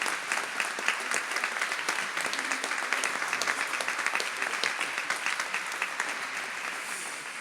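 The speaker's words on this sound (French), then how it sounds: "qu'on peut applaudir" An audience applauding at a Radio Maria gathering, dense sustained clapping from a crowd that holds steady and tapers slightly at the end.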